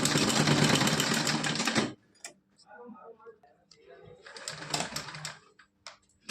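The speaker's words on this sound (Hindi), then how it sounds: "तो अब हम इस पे सिलाई लगा के दिखा रहे हैं।" A sewing machine stitches a cotton dress for a Laddu Gopal idol, running in two fast, steady rattling bursts close by, with a quieter pause between them.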